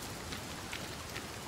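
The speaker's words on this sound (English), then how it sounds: "The rain never stops." Steady rain falls in the dark Norse-themed game Senua's Saga: Hellblade II, a dense, even hiss of drops with no voices.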